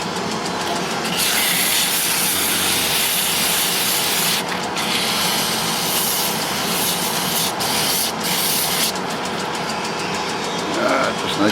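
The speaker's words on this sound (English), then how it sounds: "give it a light sand." Abrasive paper rubbing steadily against a long, thin wooden spindle turning on a lathe, a continuous close hissing scrape with a brief lift around the middle and someone speaking over it.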